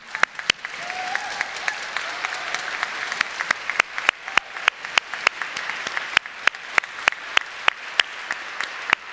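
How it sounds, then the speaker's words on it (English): A church congregation at an Easter Sunday service applauds the musicians and choir, a steady, fairly close round of clapping with sharp individual claps standing out over the dense wash for the whole stretch. "So to our musicians, to the choir, and applause,"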